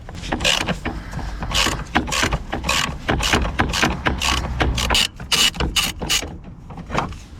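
Ratchet spanner loosening a 10 mm bolt on a Renault Kangoo 1.9 D engine while changing glow plugs, giving repeated close, loud clicking bursts in an uneven rhythm throughout.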